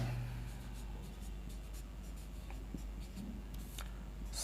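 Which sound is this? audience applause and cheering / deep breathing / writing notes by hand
writing notes by hand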